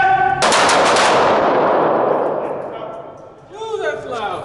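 Gunfire at close range in a close-quarters fighting drill, a loud sharp blast right at hand with ringing echo that decays over a few seconds, followed by voices.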